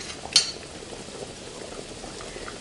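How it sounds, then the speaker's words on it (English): Tomatoes and garlic sautéing in a pan for shrimp pasta, a soft steady sizzle and bubble near the mic, with one brief clink of a utensil at the start. "you can see the tomatoes are nicely sauteing with the garlic"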